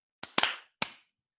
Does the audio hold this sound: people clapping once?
yes